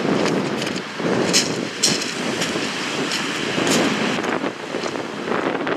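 Steady wind buffets the microphone on a beach at night, a constant broadband rumble with occasional stronger gusts throughout.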